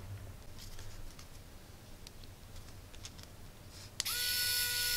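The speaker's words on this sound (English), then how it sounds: "This is my electric screwdriver." An electric screwdriver powered through a buck boost converter whirs on steadily near the end, a sudden high-pitched motor whine over a low background hum.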